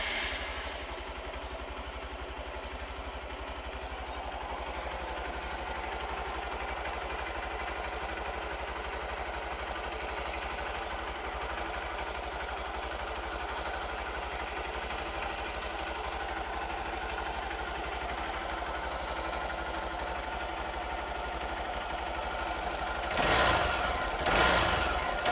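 A Hero Xpulse 200 motorcycle engine idling after a valve adjustment, a steady, even mechanical hum with close valve ticking that holds for over twenty seconds, then a couple of brief louder bursts near the end.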